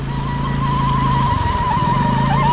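A car is driven through flood water in Valenzuela with the engine held at high revs. Its loud, close, continuous drone shifts in pitch partway through and has no talk over it.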